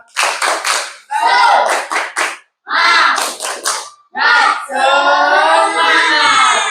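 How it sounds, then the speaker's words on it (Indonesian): Schoolchildren in an elementary classroom perform the tepuk semangat chant-and-clap routine, bursts of sharp rhythmic group claps alternating with loud shouted chanting, close and energetic, ending in a sustained collective shout. "Satu kali lagi. Tepuk semangat"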